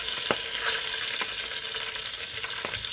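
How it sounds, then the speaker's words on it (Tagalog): Fresh sardines fry in a small amount of cooking oil, a steady close sizzle broken by sharp pops and crackles at irregular moments. "Let's fry our fish."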